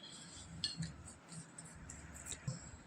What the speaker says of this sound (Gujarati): બધા મસાલાને સારી રીતના આપણે છે તો મિક્સ કરી લઈએ આ રીતે